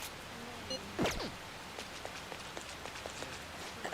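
Steady rain falls by a school in Persona 5 Royal, a soft even hiss of drops with faint scattered taps and a brief louder sweep early on.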